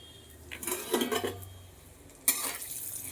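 Whole spices (cardamom, cloves, cinnamon sticks and bay leaves) are stirred in hot oil in a pan, with a few clattering scrapes and clinks of a metal spoon against the pan over a faint sizzle.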